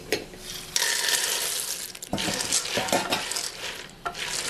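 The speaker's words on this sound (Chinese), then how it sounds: "关火，倒入花生，" Roasted peanuts are tipped into a hot wok of oil with cinnamon bark, star anise, dried chilies and Sichuan peppercorns, then tossed with a spatula, making crisp scraping and rattling bursts over a soft sizzle.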